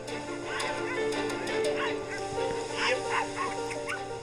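Sled dogs whimper, yip and bark in a restless chorus, the high whines rising and falling at close range over a steady background hum.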